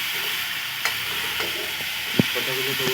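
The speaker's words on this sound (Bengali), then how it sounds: "কুমড়ো আলু দেওয়ার পরে খুব ভালো করে এক দু মিনিট নেড়ে নেড়ে কুমড়ো আলুগুলোকে ভিজে নিই" Pumpkin and potato pieces being stir-fried in a pan, a steady sizzle broken by a few scraping stirs and one sharp spatula clack near the end.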